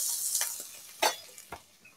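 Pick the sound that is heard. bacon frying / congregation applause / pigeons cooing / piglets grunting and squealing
bacon frying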